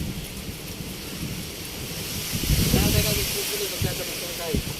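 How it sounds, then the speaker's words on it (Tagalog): Heavy rain pours steadily outdoors at the edge of a house on a corn farm, a dense hiss with a low rumble swelling midway that fits thunder, while people speak briefly over it. "Lakas oh, ng ulan."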